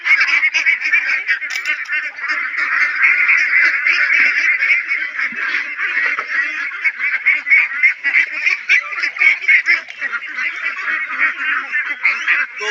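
A flock of medium-sized local domestic ducks on a farm gives continuous loud, overlapping nasal quacks and honks, near and unbroken for the whole stretch.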